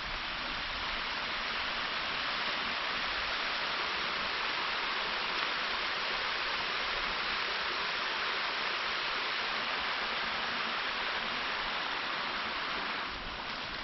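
Waterfalls on the Three Waterfalls Trail in Salamonie River State Forest give a steady, close, broadband rush of falling water that holds an even level for the whole stretch, with no voices.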